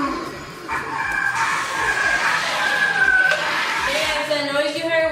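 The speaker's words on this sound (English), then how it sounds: "the noise you heard was the Bugatti" Remote control toy Bugatti car racing against a toy police car and Corvette, a steady high whining motor buzz with shifting pitch running loud and continuous throughout, with chirpy squeals on top.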